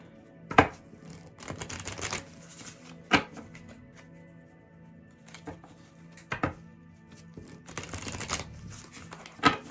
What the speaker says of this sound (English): 2 more shuffles and we'll read a card.